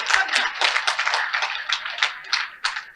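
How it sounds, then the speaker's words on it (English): A hall audience applauds in a dense, continuous burst of clapping that lasts about three seconds and stays fairly steady in loudness. "Please give me a round of applause"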